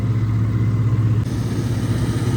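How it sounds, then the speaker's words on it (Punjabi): A John Deere 5210 4x4 tractor running a mounted reaper drones steadily with a low mechanical hum and rattle, continuous and fairly loud, with no talking. "ਟਰੈਕਟਰ ਦੀ ਆਵਾਜ਼ ਨਹੀਂ ਆ ਰਹੀ ਰੀਪਰ ਦੀ ਆਵਾਜ਼ ਆਉਂਦੀ"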